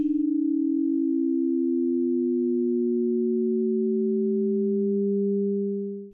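A ring-modulated sine tone splits into two steady pitches that slowly drift apart, one rising and one falling, smooth and continuous before fading out.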